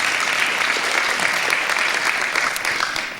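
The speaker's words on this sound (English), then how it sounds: "how about a round of applause for Leonard?" An audience applauds Leonard at an event: a full, even wash of clapping from many hands, close and sustained for the whole stretch, fading slightly at the end.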